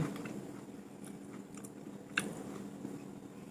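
Close, soft chewing and biting on a very ripe, almost mushy Japanese fruit, with quiet wet mouth sounds and one small sharper bite partway through, no talking.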